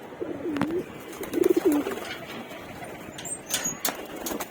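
Moulting pigeons coo in low, rolling phrases in a loft, two clear calls near the start and more faintly later, amid rustling and scattered clicks.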